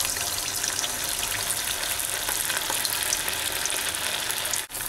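A cheese-and-almond-stuffed potato cutlet fries in hot oil, sizzling and crackling steadily up close, a dense hissing that briefly dips near the end.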